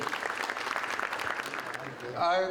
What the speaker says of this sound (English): So can we please give him a big round of applause for today?